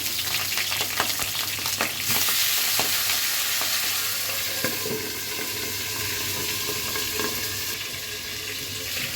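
Fish heads frying in hot oil in a home kitchen, a continuous loud sizzle with bubbling crackle and scattered light clinks or scrapes throughout.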